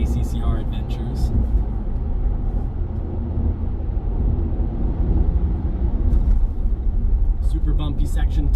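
A Ford Bronco drives at speed over a smooth off-road track, its engine and road noise forming a steady, loud, continuous rumble, with someone talking over it throughout.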